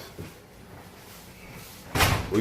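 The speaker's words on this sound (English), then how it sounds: "John, open the door." An office door swings open and bangs shut near the end, a short sharp knock over a quiet room after a faint earlier clunk, with no talking.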